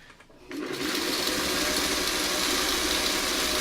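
A sewing machine starts after a short quiet moment and then runs at a steady, fast, close whir as it stitches a quilt pattern, with no one talking.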